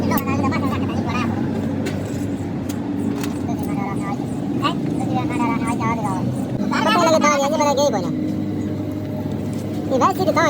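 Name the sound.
Petter diesel engine starting and running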